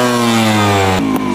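A motorcycle engine revs loud and close during slow riding practice, holding a steady droning pitch before dropping off sharply near the end.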